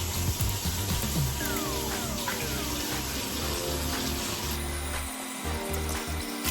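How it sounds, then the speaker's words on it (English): Cold tap water running into a bathroom sink while a face is washed, a continuous splashing rush with irregular interruptions as hands move through the stream, close and steady. "I like to go in with my Grown Alchemist Milk Cleanser, and I wash my face"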